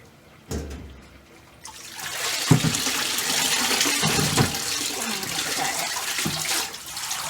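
Hot water gushes steadily from a tap into a washing machine on a sheep farm, a loud continuous rush with a few knocks and clunks as it begins.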